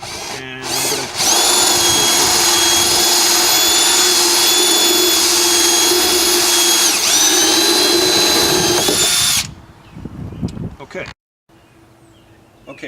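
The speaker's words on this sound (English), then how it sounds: "Okay, so now I've drilled the hole," A power drill cutting a 1 1/4 inch hole in a plastic rain barrel, a loud close whine holding steady for several seconds and then stopping, followed by quieter handling noise.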